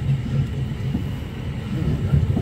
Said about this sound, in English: Pretty cool railway journey, train journey, evening train journey.